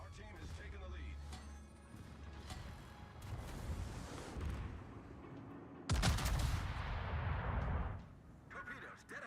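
Battleship 16-inch naval guns boom in World of Warships, with rumbling gunfire and a heavy blast about two-thirds through, over a steady ship engine drone, fairly loud and close.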